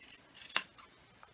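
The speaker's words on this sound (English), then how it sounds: "And then trim that excess fabric that you have around your seam." Scissors trimming excess fabric around a sewn seam, a few quick soft snips with one sharper cut in the middle, close and quiet, no voices.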